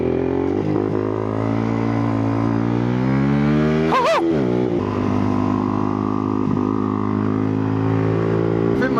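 Motorcycle engine idling, then revving sharply off the line for a first-time wheelie attempt, a loud close burst of acceleration midway before it settles back to a rumbling idle, with no talk.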